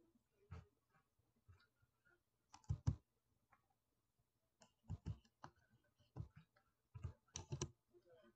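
Keystrokes on a computer keyboard as measurements are entered, coming in short clustered bursts of quiet clicks separated by pauses, with no voices.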